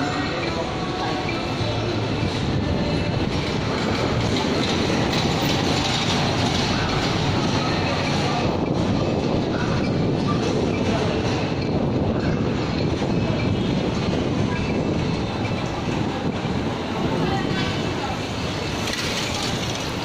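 A train at Yangon Central railway station, Myanmar, rumbles steadily throughout, with clattering wheels and a continuous roar close by.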